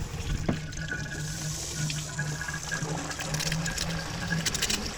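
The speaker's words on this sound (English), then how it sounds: "Now I'm gonna try to get into that water outlet and flush the block out, which should backfeed somewhere." Water gushes steadily out of a car engine block's water outlet while the block is flushed during cooling-system work, a close, continuous splashing rush with no voices.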